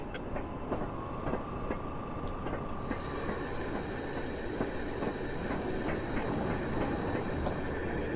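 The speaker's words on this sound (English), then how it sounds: "An oil train." In Train Simulator 2021 an oil train passes, its wagons producing a continuous rumble with rhythmic clickety-clack, joined partway through by a bright steady hiss, moderately loud and without voices.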